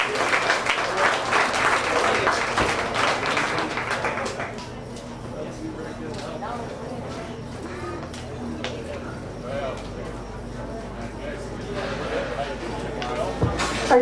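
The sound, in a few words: audience applause for champion Duroc pig exhibitor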